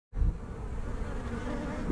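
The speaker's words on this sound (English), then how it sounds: "let's keep moving around the bee yard here." Honey bees swarm densely in a bee yard of a large commercial beekeeping operation, a steady, close, continuous buzz that starts abruptly and holds evenly throughout, with no talk.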